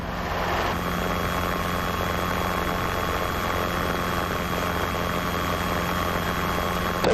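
A Robinson R22 helicopter back taxiing, its engine and rotor giving a loud, steady, unbroken drone with a constant high whine throughout and no voices.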